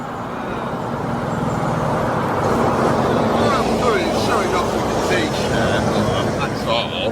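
Lorries and other traffic pass on a road near Castle Howard, a continuous loud roadside rumble and wash of engine noise, with a person talking over it.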